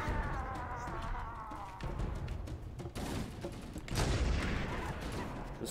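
Rapid bursts of gunfire from Halo, dense overlapping shots and automatic fire continuing throughout, loud and close with heavier blasts partway through.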